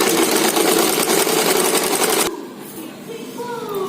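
A sewing machine runs steadily, stitching the lining of a double katori blouse, a dense close rattle for about two seconds before it stops and quieter handling noise follows.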